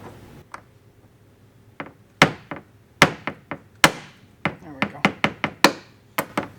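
A hammer striking a punch to drive out a rivet core on a 2022-2024 BMW X3 M mud flap mount, a dozen sharp metallic taps at uneven intervals, close up and growing more frequent.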